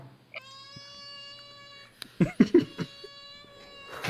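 A cat meows several times at close range, short loud cries in a quick cluster after a steady high electronic tone, with a person's voice and laughter around it.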